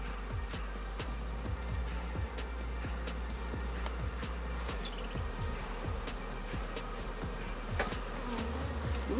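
Honey bees buzz loudly and densely as they are brushed off a honey frame during a harvest, a steady swarming drone with sharp flicks and brushing strokes throughout.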